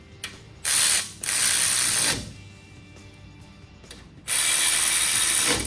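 Ratchet wrench tightening 13 mm bolts during a lift kit job on a Ford F150: three bursts of rapid, close clicking, one short and two longer, separated by quieter pauses with no talking.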